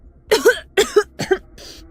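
Four dry coughs in quick succession, close by, each a sharp double burst, the last one softer.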